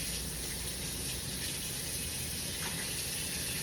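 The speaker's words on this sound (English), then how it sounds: "I am running my dishwater." A kitchen tap runs steadily, filling a sink with dishwater during breakfast cooking: an even, continuous rushing of water at moderate loudness that does not vary, with no talking.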